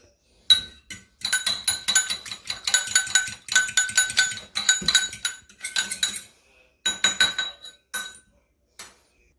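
Rapid, close clinking of a utensil whisking milk into French toast batter in a bowl, in quick bursts of rhythmic taps separated by brief pauses.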